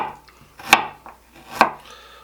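A knife slices through baby carrots on a cutting board, giving two crisp, close chops about a second apart with quieter scraping in between.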